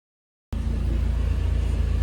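Car cabin noise in Singapore after arriving by flight, a steady low engine and road rumble that starts abruptly and holds evenly, close and fairly loud.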